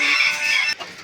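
Bantam chicks and small decorative poultry give a brief, close, high-pitched peeping cluck that lasts under a second, then fade to a faint trailing call.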